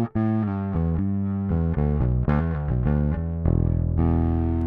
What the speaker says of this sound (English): And there you can hear the sweet distortion.